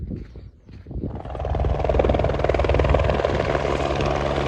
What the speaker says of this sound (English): Helicopter coming to Everest View.